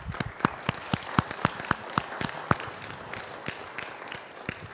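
A church choir meeting breaks into applause for the choir director, with a handful of people clapping in sparse, uneven bursts in a room before the claps trail off.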